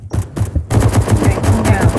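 Rapid pistol fire in Roblox, a quick succession of sharp, evenly spaced shots, loud and close, starting with a few separate pops and then speeding into a steady run.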